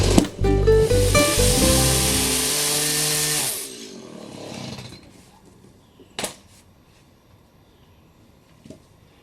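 A Stihl chainsaw roars loudly while cutting firewood, its engine droning for several seconds before winding down and cutting off, followed by a couple of faint knocks.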